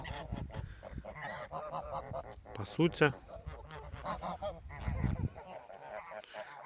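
Mammoth giant geese honk repeatedly while grazing, a flock of loud nearby calls with overlapping bursts, under and between a person's speech.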